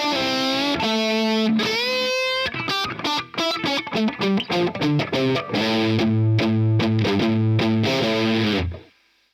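An electric guitar through a Peavey Decade amp with heavy, saturated distortion plays a loud riff with sustained chords and choppy, rhythmic stabs, ending in a ringing chord that cuts off.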